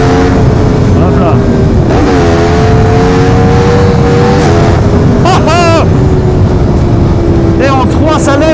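A 2018 Yamaha MT-10 motorcycle accelerating hard on a German autobahn, engine roaring loud through the gears with pitch climbing and dropping at shifts, heavy wind rush throughout and a voice talking over it.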